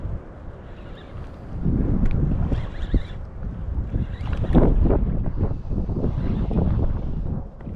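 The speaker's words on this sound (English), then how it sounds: "There's like 17-mile-an-hour wind gusts." Strong wind gusts buffeting the microphone at a river boat launch during bank fishing, rumbling in swelling waves that rise and fall, loud and close, with no talk.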